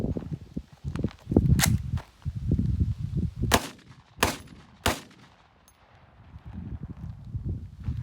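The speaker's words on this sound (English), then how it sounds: "Now I'm going to go ahead and shoot 3 rapid succession and see how that works." Three rapid sharp gunshots from a homemade Model 81 gun ring out in quick succession outdoors, standing out over a low rumbling background.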